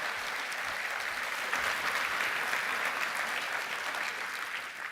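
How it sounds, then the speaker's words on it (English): An audience in a conference hall at a business technology event applauds a presenter, producing a sustained wash of steady clapping at moderate volume that swells slightly midway. "let's give Susan a round of applause."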